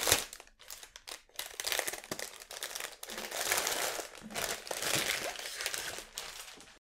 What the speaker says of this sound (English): let me just open it and get the crinkling out of the way